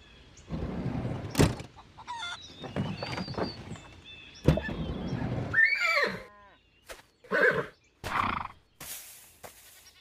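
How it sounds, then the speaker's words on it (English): A horse gives a loud, shaky whinny, accompanied by scattered knocks and bangs, snorts and rustling nearby. "Horse."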